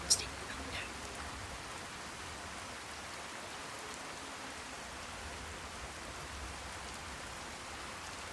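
Steady, soft rain hiss from Fallout 4's wet weather fills the scene evenly, faint and continuous with no other clear sounds.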